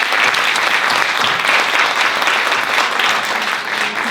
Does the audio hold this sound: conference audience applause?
yes